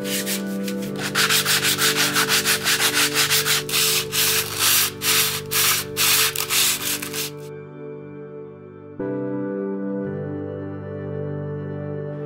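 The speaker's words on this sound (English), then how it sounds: "the first step once you get the plywood home is to sand everything" Rhythmic back-and-forth sanding strokes on plywood edges, close and fairly loud, followed by quieter stretches of a steady hum after the scraping stops.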